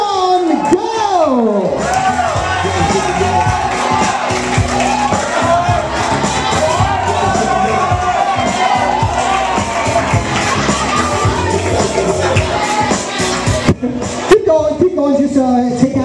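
Wedding reception guests cheer and shout during a party game in Los Angeles, a loud, continuous crowd roar with whoops and excited voices, including children, rising and holding for most of the stretch before a brief dip near the end.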